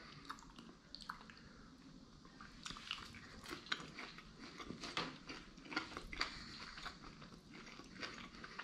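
Close, quiet chewing of a crunchy sushi roll at a mukbang meal, with wet crunches and squishy bites arriving in an irregular rhythm and no talking.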